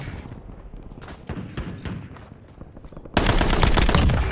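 Video game gunfire cracks in rapid, irregular bursts, starting as scattered shots and then swelling into a dense, loud barrage of continuous fire near the end.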